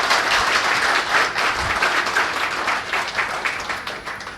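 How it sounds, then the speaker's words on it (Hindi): Audience applause at a Cyber Sipahi Special Task Force event: dense, sustained clapping from a crowd, close and fairly loud, swelling early then gradually tapering off toward the end, with no talk over it. "नेहा जी हमारे फोन पे भी बनी हुई हैं, ये तालियां एक बार नेहा जी को अच्छी सुनाई दें।"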